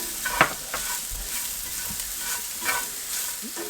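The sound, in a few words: sautéing garlic with sausage in a pan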